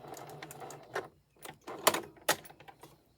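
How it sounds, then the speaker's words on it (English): A sewing machine back stitching on a handmade memory bear: short separated bursts of stitching and clicks, a few sharp close rattles with quiet gaps between them, slow and uneven in pace. "Now I'm back stitching here."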